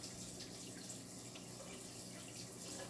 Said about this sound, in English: And now I'm going to rinse off my fork